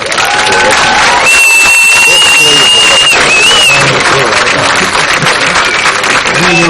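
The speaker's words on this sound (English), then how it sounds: "How about a loud round of applause?" Crowd at a high school homecoming football game, Bluffton at Jay County, claps and cheers loudly across the whole stretch, a dense, steady roar with a whistle-like tone and some voices mixed in.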